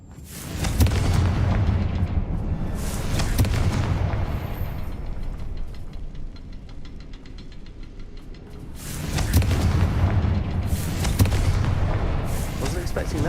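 Confringo spell blasts in Hogwarts Legacy: two loud booming explosion bursts with rumbling tails, the first early, the second after a quieter stretch, with sounds of play between them.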